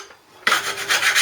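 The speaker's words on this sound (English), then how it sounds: "grind back some of the paint" Metal being ground to strip paint ahead of welding: after a short quiet moment a loud, close rasping grind starts abruptly and carries on in uneven surges, with no voices.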